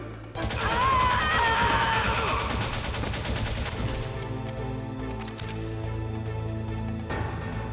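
Video game gunfire crackles in rapid bursts over a droning game soundtrack, loud at first and then thinning to scattered shots and clanks beneath the music.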